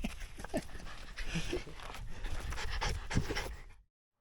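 A dog pants close by in quick, rhythmic breaths, steady and moderately loud, before the sound cuts off abruptly.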